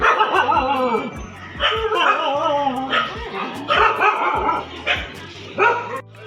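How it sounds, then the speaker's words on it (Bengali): Stray dogs on a crowded early-morning train station platform bark, yip and whimper in repeated agitated bursts, close and loud, with people talking in the background. "তো কুকুরগুলো এখানে খেপে গেছে।"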